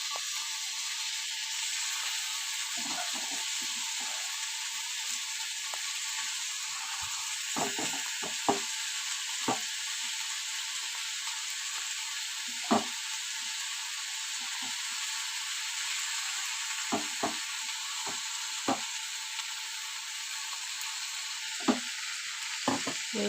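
Soaked sabudana being stirred in a frying pan, a steady soft sizzle of oil underneath with occasional sharp scrapes and clicks of the spoon against the pan, no talking.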